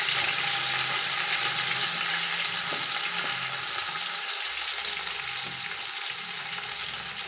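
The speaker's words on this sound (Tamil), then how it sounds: "இதுதான் அரிஞ்சு வச்சு வெங்காயம் போடுறோம்." Chopped onions fry for chicken biryani in a pan, giving a steady, close bright sizzle that crackles continuously with a few faint stirring scrapes and no talking.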